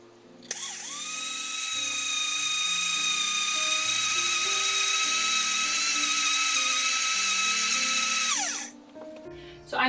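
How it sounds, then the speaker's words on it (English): An electric grain mill grinds whole wheat into flour for sourdough bread, spinning up with a sharp start into a steady, loud, high whine that holds for about eight seconds before winding down to a stop, close by. "I'm going to have to go ahead and grind some more to get that up to 50"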